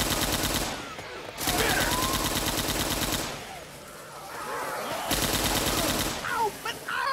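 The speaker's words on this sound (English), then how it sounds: "Why are you shooting me?" Bursts of automatic gunfire from the zombie shooter game Left 4 Dead 2 rattle in sustained volleys separated by short gaps, loud and dense, with faint game voices and effects between the bursts.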